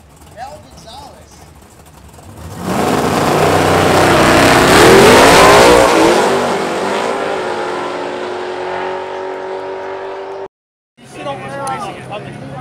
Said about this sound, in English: only a second gen Camaro shootout right here